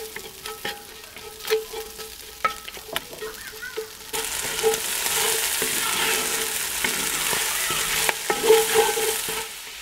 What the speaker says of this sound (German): nehmen wir unsere Zwiebeln und die braten wir jetzt erstmal schön an.